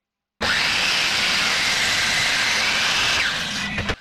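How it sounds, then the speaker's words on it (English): Power saw cutting multiple kerfs into a cedar post for a table frame, a loud, close, steady high whine lasting about three seconds, then winding down and stopping. "Here I'm making multiple cuts because I want the cross member of the frame to inlay into each other."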